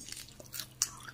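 Crispy noodles being bitten and chewed up close, a few quick dry crunches with one sharper snap, quiet and brief with no talk.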